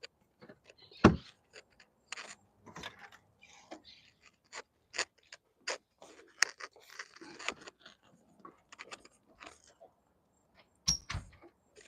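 Scissors snipping garden plants, a series of sharp, close clicks and cuts spaced irregularly over quiet, with occasional rustling.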